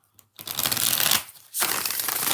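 Tarot cards being shuffled by hand, two close, crisp riffling bursts of papery flutter separated by a short pause, loud and alone without speech.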